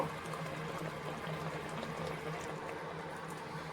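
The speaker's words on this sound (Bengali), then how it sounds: "তো মিডিয়াম আঁচে 5 মিনিট ভালো করে ফুটিয়ে নেব।" A pot of fish curry (parshe fish in sesame paste gravy) bubbling on medium heat, giving a steady, continuous low simmering burble with no voices.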